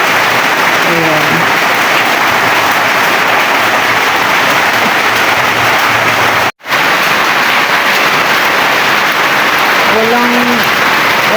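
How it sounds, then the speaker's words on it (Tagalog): Rain falls steadily outside, a dense, loud and continuous hiss of drops that barely changes, with faint chirps or squeaks briefly showing through and a momentary dropout partway through. "Hindi ako makalabas kasi umuulan."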